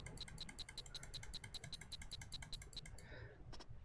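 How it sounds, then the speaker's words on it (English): Mouse clicking at a steady rhythm during a computer emergency-rescue game, about twenty evenly spaced sharp clicks close up, breaking off near the end with a couple of final taps. "Clicking with a beat seemed to help"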